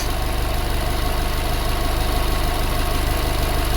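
2007 Subaru Forester engine idling at operating temperature, suspected of a head gasket fault: a close, steady idle with an even low pulsing rhythm and no voices.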